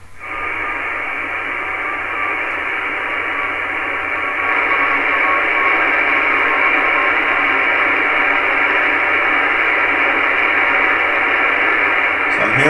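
Morse code beacon from the XW2D amateur radio satellite, received as faint tones buried in steady, loud receiver hiss that swells slightly partway through, with no talking.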